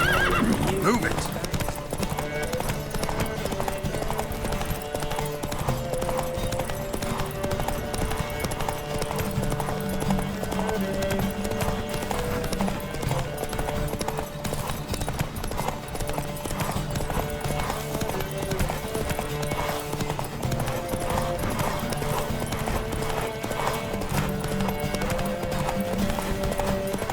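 Rapid hoofbeats of a galloping horse in The Witcher 3 drive on steadily throughout, with a horse whinnying and a voice calling out over the pounding gallop.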